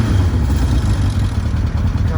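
The engine of a 2002 Kawasaki ZR-7S motorcycle, heard up close as a steady, loud mechanical rumble with some clatter, holding fairly even rather than sweeping up, with no other sounds over it.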